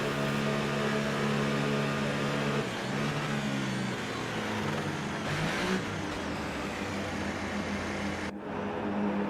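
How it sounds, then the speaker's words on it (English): An F1 race car in a video game does a small tyre burnout at the back of the grid in Bahrain, its engine droning loud and steady with harmonic whine and brief revving surges before cutting off near the end. "do a small burnout here at the back of the grid"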